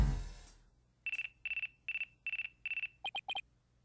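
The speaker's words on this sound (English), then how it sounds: "Looks like I have a phone call." A phone rings in the Ace Attorney Dual Destinies video game as a run of five even electronic trill bursts, followed by three quicker chirps, clear and isolated over a faint low hum.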